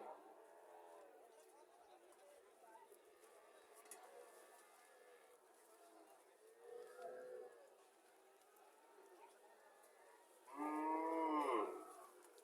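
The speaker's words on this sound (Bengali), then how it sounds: "এটা একটা বাছুর, সার বাছুর" A calf moos at a village cattle market, one loud drawn-out call near the end, while people chatter quietly in the background throughout.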